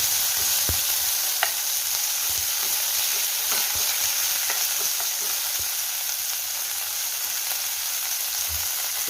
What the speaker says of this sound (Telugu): ఇప్పుడు ఇందాక మనం పక్కన పెట్టుకున్న వాము పిల్లలు తీసుకోవాలండి ఇలా తీసుకుని బాగా కలుపుకోవాలి